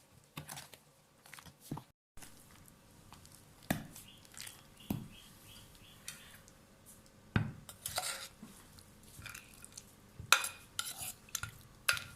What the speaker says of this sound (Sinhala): කලින් හදාගත්ත පළතුරු ටිකත් මේකට එකතු කරලා හොඳට කලවම් කරගන්නවා